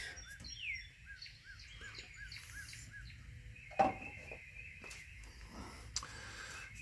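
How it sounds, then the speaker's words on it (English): Birds chirp outdoors on a calm, mild morning, a series of short repeated high calls and tweets at moderate distance, fairly faint over soft background hum, with no talk. "Birds are happy."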